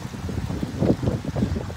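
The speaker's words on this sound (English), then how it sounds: "It is windy out." Gusty wind buffets a microphone outdoors, a low rumbling roar that swells briefly and then settles.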